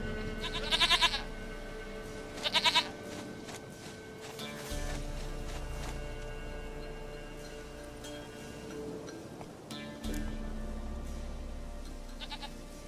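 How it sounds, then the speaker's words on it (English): A goat in The Witcher 3: Wild Hunt bleats in short, loud, nasal bursts, a pair near the start and another toward the end, over a steady low game ambience. "Goat of mine! Dearest, sweetest goat!"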